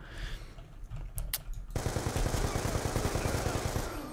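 Gunfire in Call of Duty: Black Ops 2: a few sharp isolated shots, then a sustained rapid automatic burst of evenly spaced, loud reports running continuously to the end.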